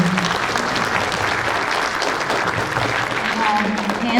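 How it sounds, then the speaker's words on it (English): An audience at a political candidate forum in Braham, Minnesota claps loudly and continuously, a full room of applause with a few faint voices mixed underneath. "why don't we give another round of applause"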